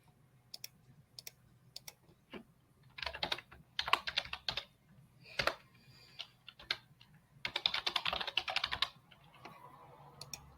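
Quiet, close computer keyboard typing comes in irregular bursts of rapid key clicks with short gaps between them, set over a faint low hum and with no talk.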